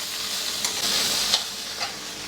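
Grated carrot and fresh coconut fry in a pan, giving a bright continuous hiss and sizzle with a few light spoon scrapes over the top, close and steady.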